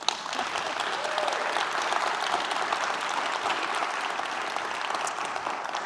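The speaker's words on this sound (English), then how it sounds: "And now we are doing one last clapping exercise." Audience clapping at a climate conference in San Francisco, a steady wash of many hands at moderate volume lasting six seconds, evenly sustained without talk.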